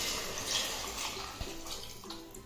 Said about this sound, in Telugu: అప్పుడు వాటర్ పోసుకోవాలి.